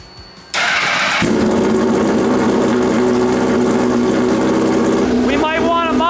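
A homemade Formula One style race car engine with no muffler cranks and catches, then runs loud and rough with a harsh, raspy exhaust roar close up, revving briefly at the end.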